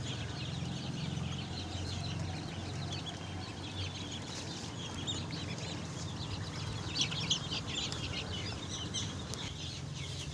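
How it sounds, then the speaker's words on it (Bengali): Native deshi chickens cluck softly and intermittently at a distance over a low, steady background hum. "আর এগুলো দেশি মুরগি।"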